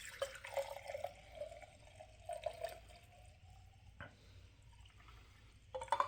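Liquid pouring and splashing into a glass while mixing a bourbon drink, a soft continuous trickle with small drips and a brief clink near the end, close and quiet.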